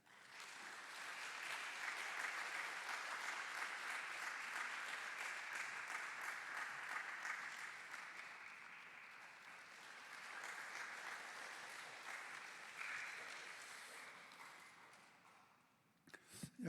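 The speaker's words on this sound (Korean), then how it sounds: "등단하실 때 큰 박수 부탁드립니다." A school audience at an autumn admissions information session gives sustained applause as the chairman walks to the stage, even, dense clapping lasting about fifteen seconds, fairly distant and soft, swelling slightly before tapering away.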